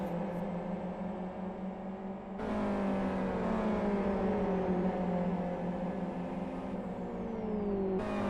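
Race cars lap a track in the racing sim Live for Speed, engines droning steadily and loudly, with a sudden shift in engine pitch as another car joins the mix and tones sweep downward while they pass.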